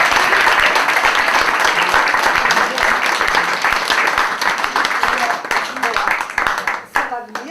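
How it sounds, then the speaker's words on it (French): Audience applause at a poetry slam joust, a dense, loud wall of clapping that carries on steadily for several seconds before thinning and fading near the end. "En général, on applaudit."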